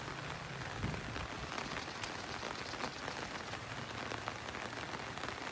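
Heavy rain pours down in a dense, even roar that holds steady throughout, close and loud, with no voices heard.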